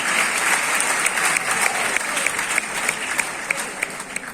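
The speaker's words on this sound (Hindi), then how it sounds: "एक बार आपने बगैर मेरे कहे तालियां बजाई" A large audience at a Mumbai music tribute breaks into sustained, dense applause, with many hands clapping steadily at close to medium range throughout, unbroken and without talk.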